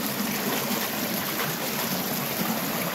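Water rushes steadily over rocks in a rocky stream bed, a continuous close splashing hiss with no pauses and no voices.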